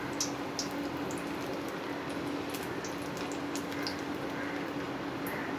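Small balls of corn vadai batter frying in hot oil, a steady dense crackle and bubbling hiss with scattered brighter pops, fairly quiet and continuous without any voices.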